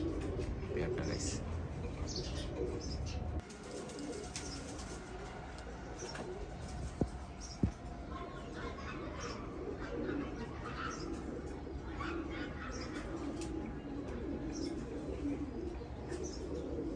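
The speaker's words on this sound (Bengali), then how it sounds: "একদম পিওর শিয়ালকুটি একটা পেয়ার গাইস" A pair of pure Shialkuti pigeons coo softly with scattered chirps over a low steady background, birds fairly close and calling on and off throughout.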